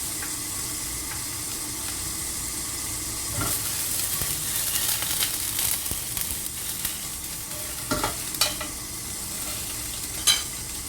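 A sausage sizzles steadily in a frying pan with a constant hiss of hot fat, broken by a few louder pops and spits, heard up close with no talking.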